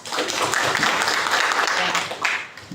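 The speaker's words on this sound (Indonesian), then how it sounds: "Kasih aplaus." A classroom of students applauding, a steady burst of clapping that lasts almost three seconds and then tapers off.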